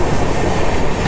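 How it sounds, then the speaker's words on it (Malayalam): Kannur–Coimbatore Express train at Palakkad Junction station, a short burst of steady rolling rumble and wheel noise from the moving train, loud and continuous with no talk. "ഇത് കണ്ണൂർ കോയമ്പത്തൂർ എക്സ്പ്രസ്."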